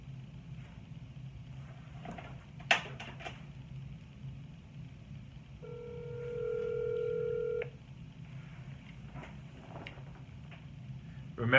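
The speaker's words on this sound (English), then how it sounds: "Let's make some dials, and" Telephone keypad tones dialing a number for a cold sales call, a short run of steady beeps over a low background hum, fairly faint, with a few clicks around it.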